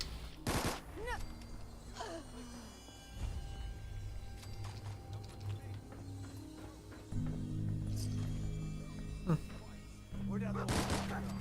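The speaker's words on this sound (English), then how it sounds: "Usually they just open fire." Gunfire in the video game Fallout 4, several sharp shots and bursts scattered across the scene over a steady background of game ambience and low rumble, fairly loud and near.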